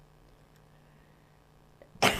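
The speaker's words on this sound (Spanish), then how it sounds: "estornudé al micrófono" A single sudden sneeze bursts close into a radio studio microphone after a stretch of quiet room hum, loud and broadband at the end.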